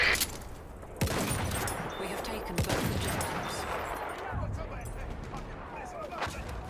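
An enemy artillery barrage in a first-person shooter video game, with loud impacts and blasts coming in scattered bursts and a rumbling tail, with speech alongside.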